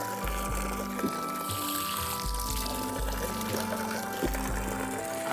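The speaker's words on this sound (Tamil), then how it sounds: "இயற்கையாக மலையிலேருந்து வர தண்ணியை பிடிச்சி அப்படியே பிடிக்கிறோம்." Cold natural spring water flows from the mountain near Maruthanadhi dam in Dindigul, splashing and pouring steadily over low rhythmic thumps, heard up close with no talk.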